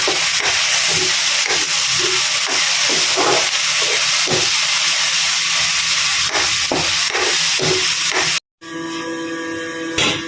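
Potatoes with chili, curry and turmeric powders and salt are stirred in a cooking pot for a capsicum meat dish; a loud, constant sizzling hiss carries repeated scraping strokes, then cuts out briefly before the frying noise resumes.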